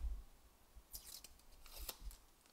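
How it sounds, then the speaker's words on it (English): The backing strip is peeled off a peel-and-stick adhesive pad on a handmade notepad: two short, faint crinkly rasps about a second apart in an otherwise quiet room, with no talking. "So I will peel off the backing"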